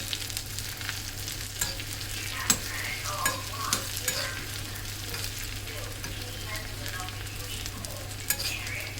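Hot oil tempering for a snake gourd kootu, a close, steady sizzle broken by sharp spoon clinks and stirring knocks at irregular intervals, with a low hum underneath and no talking.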